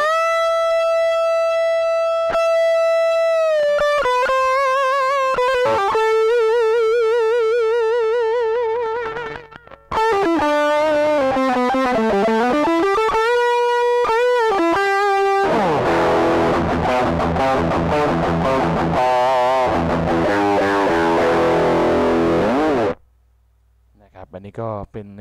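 An electric guitar through a Providence Stampede SDT-2 distortion pedal plays sustained notes and bends, with a wobbling modulated tone, then a dense fuzzy burst of chords before cutting out.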